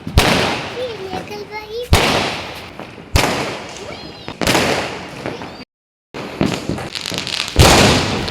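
Diwali firecrackers and fireworks burst outside, a series of sharp loud bangs every second or so, each trailing into crackling and hiss, with voices talking faintly between the blasts.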